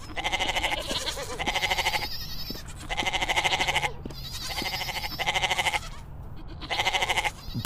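A goat in a 3D animated cartoon bleats repeatedly, loud wavering calls coming in bursts about every second with short pauses between, close and clear.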